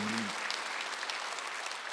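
Church congregation applauding during a Korean Sunday service, a dense, even wash of clapping throughout after a brief spoken word at the start.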